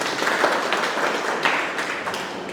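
Audience applause in a seminar hall, steady dense clapping throughout, fairly loud and near, with no voices over it.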